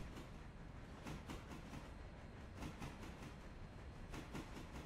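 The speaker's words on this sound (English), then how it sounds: "Some nice clack, clack, clack as we go over the rail joints" Train wheels clacking over rail joints as a train rolls down a hill in the railroad simulation game Railroader, steady rhythmic clickety-clack repeating over a constant rolling rumble, faint and without talk.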